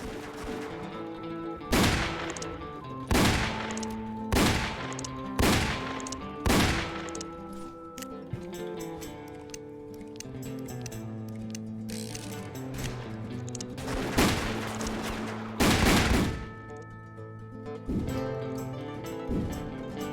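Peacekeeper revolver shots in the Roblox game Wild West, a series of sharp reports in quick bursts with mechanical clicks and cocking between them, heard over steady game background sound.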